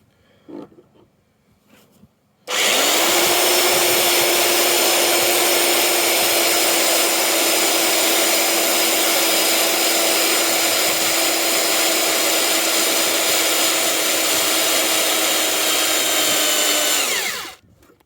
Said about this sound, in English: It's time to drill this out with my big fuck off drill.